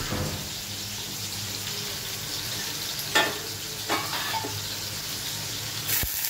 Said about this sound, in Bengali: কড়াইতে তেল গরম করে অলরেডি আমি একটা তেজপাতা দিয়ে দিয়েছি, পেঁয়াজ কুচি দিয়ে দিয়েছি।